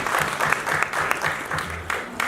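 An audience claps throughout a poetry gathering, a dense, steady applause with a few louder bursts, heard close and without speech.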